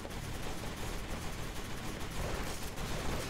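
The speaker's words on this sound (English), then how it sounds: "We got machine gun guys and all kinds of stuff just going on." Machine gun fire in the Kick Ass Commandos video game forms a continuous, dense, noisy barrage that holds loud and steady throughout without pause.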